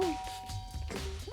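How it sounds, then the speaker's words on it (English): A game doorbell chimes in Danganronpa, a bright sustained tone that rings with a gliding pitch, ending in a second rising chime, heard close and clear against a low background hum. "I pressed on the doorbell."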